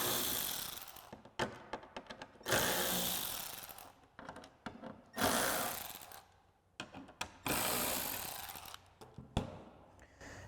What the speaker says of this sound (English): So now we'll take a T20 Torx socket to pop out these 4 screws.